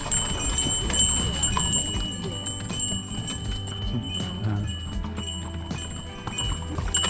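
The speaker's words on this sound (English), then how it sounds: "by horse carriage" Steady hoof clip-clops from a horse-drawn carriage near Flims, Switzerland, roll along continuously with faint bell-like ringing, some wheel and road noise underneath.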